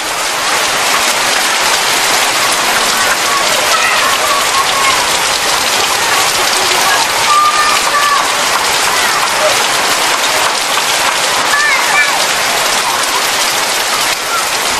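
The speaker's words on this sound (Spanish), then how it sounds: "La lluvia facilita incluso muchas tareas cotidianas." Heavy rain pours down steadily over a village in Sumatra, a dense, unbroken hiss of drops drumming on surfaces that stays loud and even throughout, with no other sound breaking through.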